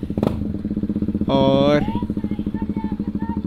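A KTM motorcycle arriving for a group ride near Lonavala, its engine putting out a rapid, even thump close by, with a short revving burst in the middle and a brief spoken word over it.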